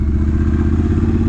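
A 2022 Triumph Bonneville Bobber motorcycle on the move, its engine holding a loud, steady low rumble with a rough clattering edge throughout the short stretch of riding.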